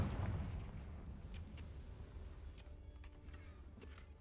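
Confringo blasting spell in Hogwarts Legacy, a low rumbling blast that fades out over a few seconds with faint crackling debris afterward, fairly quiet, no talking.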